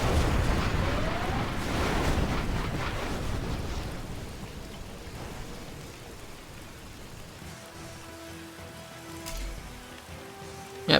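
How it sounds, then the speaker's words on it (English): A particle cannon fires in Command & Conquer Generals Zero Hour, a loud sustained roaring blast that slowly fades into rumbling debris and crackle, with faint game tones near the end. "next round of particle cannons, gone straight from the airfield, taking out those 4 power plants there"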